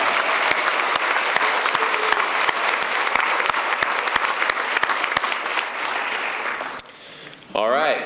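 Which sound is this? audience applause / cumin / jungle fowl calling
audience applause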